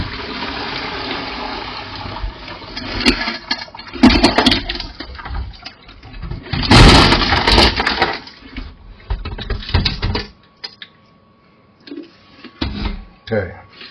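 Tumbled rocks and water are poured from a bucket after a first-stage rock tumble, with uneven splashing gushes and rattling stone clatter in bursts, broken by short pauses and a few trailing splashes.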